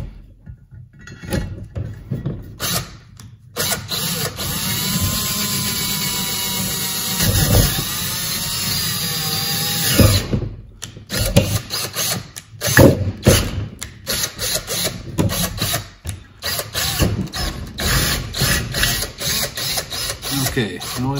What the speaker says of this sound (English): You can see the drill bit is actually broken through.